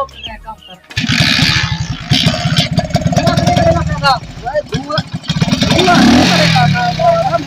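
A motorcycle engine starts and runs with a rapid, chugging putter, loud and close, revving and idling unevenly while people talk over it.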